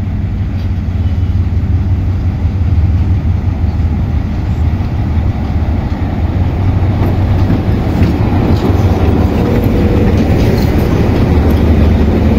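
A train shunting at Kantang station in Thailand, switching over from rapid train 167 to 168, gives a loud, steady rumble with rolling wheel clatter that runs on without pause and has no voices.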